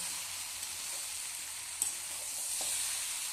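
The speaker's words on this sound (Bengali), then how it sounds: "সমানভাবে একদম নেড়ে যাচ্ছি এরকমভাবে লাড়তেই থাকবে বুঝলে লাড়লে বেশি ভালো হবে" Meat frying (kosha) in a pan while it is stirred, a steady close sizzle with a few faint scrapes and clinks, no voices.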